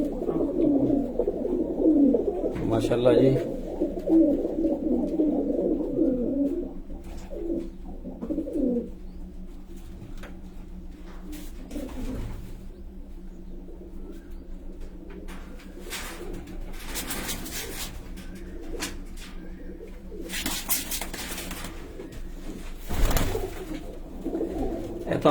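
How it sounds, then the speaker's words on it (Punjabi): Domestic racing pigeons in a home loft coo in low, throaty rolls, strongest over the first several seconds and then softer, with brief speech and scattered clatter and bumps nearby. "ਉਹਨਾਂ ਦੇ ਘਰ ਦਾ ਕਬੂਤਰ ਹੈ ਜੀ"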